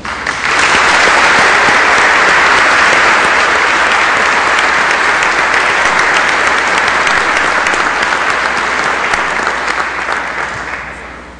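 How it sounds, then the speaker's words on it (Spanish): Sustained applause from a debate audience at a university in Guadalajara, steady and dense clapping for the candidates from start to finish, full and close, fading slightly at the end. "Brindemos un aplauso a los ciudadanos candidatos."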